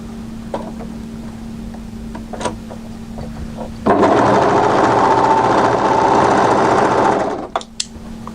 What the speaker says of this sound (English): we're going to sew from this edge here through to the notch position